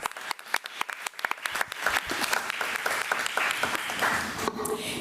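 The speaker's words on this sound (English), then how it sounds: "So let's give Ms. Kim Willis another round of applause." Audience at a county committee of the whole meeting applauding, starting as scattered individual claps and swelling into dense continuous clapping that thins slightly toward the end.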